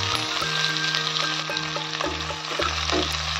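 Chopped onion hitting hot oil with cumin and mustard seeds, a loud, dense, continuous sizzle close up, with light stirring clicks and a low steady hum beneath.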